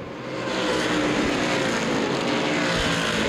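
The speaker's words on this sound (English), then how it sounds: "Thompson's working a loose race car through the corners right now." Street stock race cars circling Winchester Speedway, a dense sustained engine roar that swells in and holds steady, heard from trackside at a distance.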